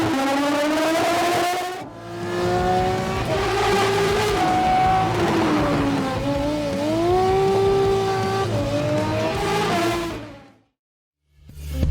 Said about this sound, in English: The Aston Martin Vulcan.